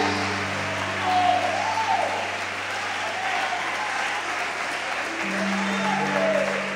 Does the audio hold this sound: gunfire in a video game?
no